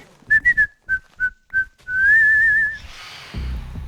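A person whistles while working, several short, bright notes in a quick run, then one longer wavering tone, ending with some background noise.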